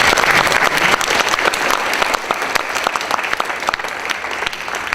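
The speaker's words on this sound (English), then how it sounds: "we have one final round of applause for our panel" An audience at a Florida history lecture gives a panel a sustained round of applause, dense steady clapping filling the room throughout with no voices over it.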